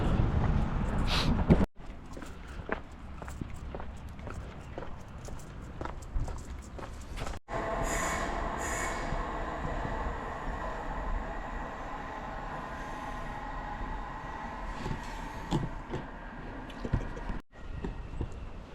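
A train pulls in at a platform at Troon railway station with a steady rolling rumble and squealing wheels, heard at moderate distance among faint station noise and footsteps.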